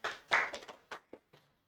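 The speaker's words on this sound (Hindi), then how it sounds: "तालियां।" A handful of scattered hand claps during a physics lesson, a few quick claps then sparser single ones, brief and close with no talking.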